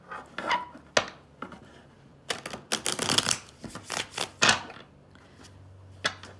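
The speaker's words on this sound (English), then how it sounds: "Okay, one more shuffle." Tarot cards are shuffled by hand in a series of quick riffling and slapping bursts, close up, with short pauses between.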